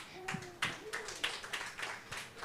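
At the Writers Mingle 2024 gathering in Kigali, Rwanda, the audience claps for the stage performers: a run of sharp, evenly spaced hand claps from a modest crowd, with a faint tone drifting underneath.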